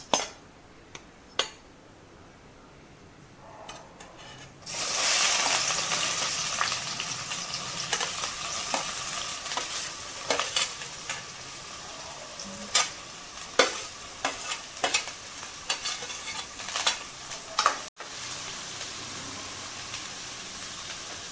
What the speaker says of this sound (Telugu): ఇప్పుడైతే ఆయిల్ వేడెక్కింది, ఉల్లిపాయ ముక్కలు వేసుకుందాం.